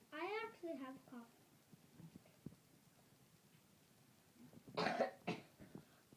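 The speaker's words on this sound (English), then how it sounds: "I actually have cough." A child coughs a few times, with a short burst of coughs at the start and another pair near the end, quiet and close, with soft noises between.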